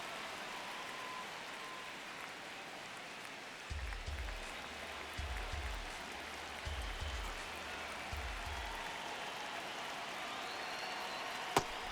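A stadium crowd at a Mets–Braves baseball game in MLB The Show 26 hums as a broad, steady wash, with soft rhythmic low thumps joining partway through and a faint murmur underneath.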